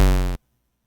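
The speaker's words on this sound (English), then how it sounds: "that's just a regular square wave with a little bit of pitch and volume going on" Plain square-wave synth tone made in FL Studio, with slight pitch and volume modulation; a single loud, buzzy note sustains for about a third of a second, then cuts off abruptly into silence.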